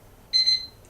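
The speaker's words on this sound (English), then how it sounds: "my egg timer" An egg timer gives one short, clear, high electronic beep that sounds on its own against near silence.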